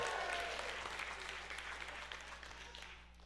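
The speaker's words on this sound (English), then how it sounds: "Let's give all these graduates a round of applause one more time." Applause for graduates at a graduation ceremony, a dense, steady clapping crowd that starts strong and slowly tapers over a few seconds.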